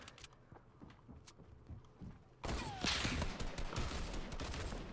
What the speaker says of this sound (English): Okay, so they have to shoot it to destroy it.